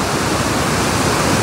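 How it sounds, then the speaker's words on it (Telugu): Waterfalls on the Umngot river near Shnongpdeng in Meghalaya send up a steady, loud rush of falling water, a dense broadband roar holding even throughout with no voices over it. "మస్తు ఉన్నాయి వాటర్ ఫాల్స్,"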